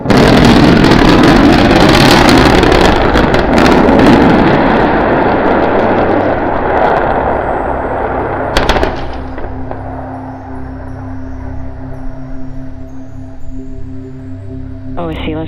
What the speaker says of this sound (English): We're preparing to restart 2 engines, flip the vehicle vertical, then transition to 1 engine for the landing burn.